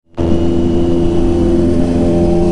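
Several motorcycle engines, including four-cylinder bikes on a group ride, kick in abruptly and keep running with a loud, steady, throbbing rumble up close.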